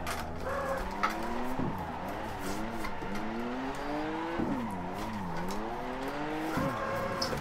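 Nissan 240SX with a 2JZ engine drifting in Assetto Corsa, a steady whining engine note that rises and dips with throttle, and sharp tire squeals cutting in at intervals, with no voices.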